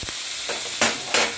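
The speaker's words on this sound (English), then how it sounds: "because mine is heated, what I'm going to do is to add the chorizo as well as the carrots" Chorizo and carrots hit a heated wok, a brief burst of close sizzling with a couple of sharper hissing surges as the ingredients land.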